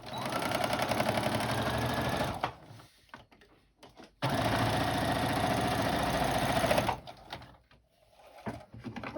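A sewing machine stitching the lining of a crocheted bag: a steady, fast mechanical whirr runs for about two seconds, stops amid soft handling noises, then resumes for nearly three seconds before stopping again, with no talk.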